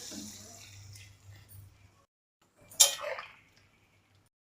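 A metal lid is set onto a cooking pot of soybean curry, making a single sharp clatter and brief ringing after low kitchen sizzle fades, with a voice heard faintly.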